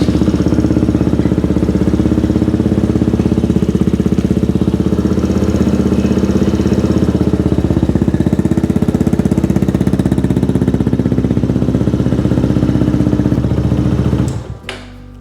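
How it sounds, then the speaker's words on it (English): The engine of a Benelli TnT 135 motorcycle runs loud and close in a fast, steady chugging idle that holds for about fourteen seconds and then cuts off abruptly. "Let's start her up and see if she blows up."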